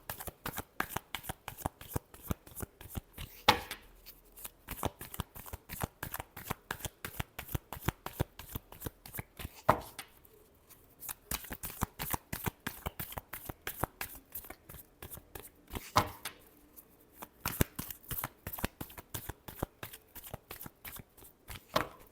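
Tarot cards are shuffled by hand in quick riffling bursts, crisp repeated flutters broken by a few brief pauses, close and clear with no voices.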